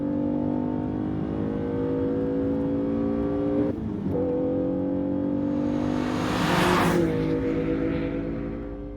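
A BMW E30 M3 Sport Evo engine revs loudly and steadily, with a brief dip in pitch partway through, then surges higher before easing off.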